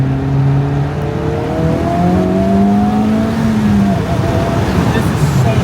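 A Honda engine revs hard into VTEC during a drag race between an NSX and a Civic Type R, its pitch climbing in rising sweeps over loud road and wind roar, with a voice talking over it.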